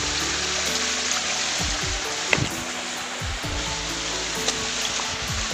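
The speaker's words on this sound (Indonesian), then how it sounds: "Ini aliran sungainya ini." A river flows by a cave with water clouded by dissolved kaolin, a loud, constant rushing wash close by with no voices heard.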